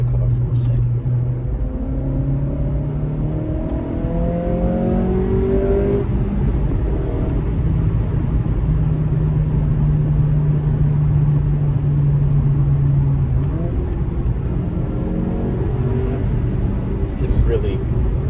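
A 2023 Acura Integra's engine intake drones deep and steady from inside the cabin while accelerating, rising in pitch through the gears, with a continuous road rumble underneath and no talking.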